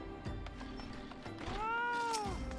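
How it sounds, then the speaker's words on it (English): A cat meows in Final Fantasy XIV, one clear, rising and falling meow that is close and fairly loud over faint game background sound. "Ah, I heard the cat again."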